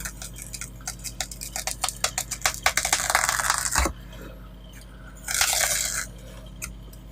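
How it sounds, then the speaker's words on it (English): A knife chops and cuts out a piece of foam while building a motorcycle racing diorama, making a run of close, crisp ticking cuts, then two longer scraping, hissing strokes through the material. "we'll start chopping out that bit of foam"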